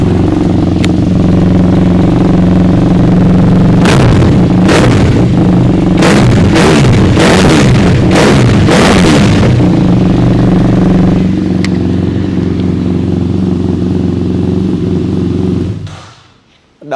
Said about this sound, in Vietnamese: đã lên cái bô carbon này rồi thì mình nổ nghe luôn thử coi